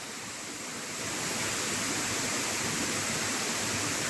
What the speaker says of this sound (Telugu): వాటర్ ఫాల్స్ ఏ లెవెల్లో ఉంది చూడండి